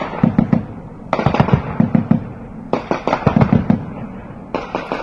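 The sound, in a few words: gunfire and shelling in Panjshir fighting footage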